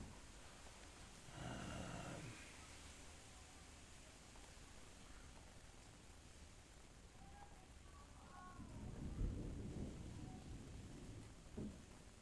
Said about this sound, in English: I wonder if you could hear the storm outside